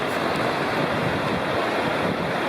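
Sycamore Creek rushes into the Tellico River in a forested valley, a steady, dense roar of flowing water that holds evenly throughout with no voices.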